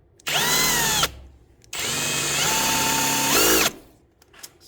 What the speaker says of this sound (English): Had to hit on my angle grinder since I don't have a pedestal grinder.